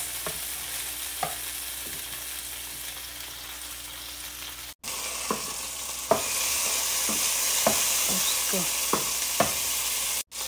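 Garlic and onion sizzle steadily in a pan, a soft continuous frying hiss broken by the clicks of a stirring spoon, with the sizzle briefly cutting out and then resuming louder.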